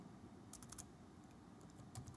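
Quick bursts of keystrokes on a computer keyboard as commands are typed, short clustered taps separated by pauses, quiet and close against a faint background hiss.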